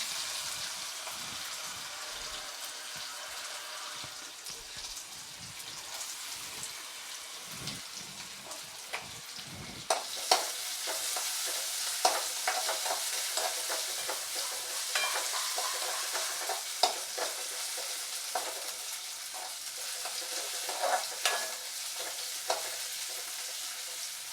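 Chopped green chillies and potatoes fry in a pan for Maharashtrian sabudana khichdi, a steady close sizzle under repeated scraping stirs, growing brighter and busier halfway through.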